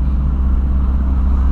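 A Volkswagen Voyage car engine runs at a steady idle, a loud, continuous low rumble heard close up from inside the car without talk.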